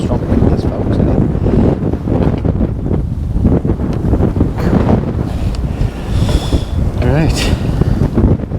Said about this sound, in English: Strong winds, folks, isn't it?